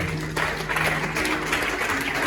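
A church congregation applauding and cheering for the Lord, a brief, dense wash of clapping with murmured voices under it.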